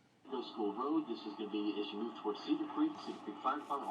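A tinny recording played through a small Retekess V115 digital AM/FM radio speaker, thin and boxy, with a voice coming through it at low volume.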